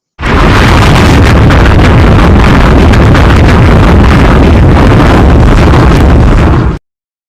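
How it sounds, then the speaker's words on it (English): A bomb explosion sound effect roars as one long, loud, distorted blast. It holds at full level for over six seconds, then cuts off abruptly. "Let me give y'all a bomb"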